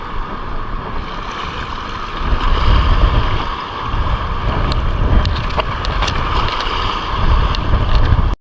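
Strong sea waves and wind around a small fishing boat off Calumbuyan, Calatagan, Batangas: continuous broadband rushing and sloshing with gusty surges, plus a few faint ticks, steady and loud throughout with no voices.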